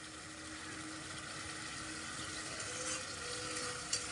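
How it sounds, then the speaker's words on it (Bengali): Spice masala fries lightly in a pan over low heat, giving a faint, steady sizzle with soft bubbling and no talk. "হালকা করে মশলাটা ভেজে নেব"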